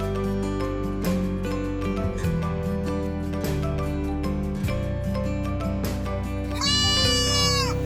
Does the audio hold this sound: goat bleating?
yes